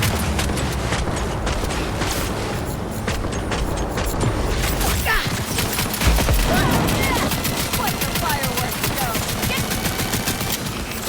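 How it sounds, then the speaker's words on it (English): Sustained automatic gunfire in the video game Cyberpunk 2077, loud and nearly continuous rapid shots layered with dense combat noise throughout, with occasional speech underneath. "Keep shooting!"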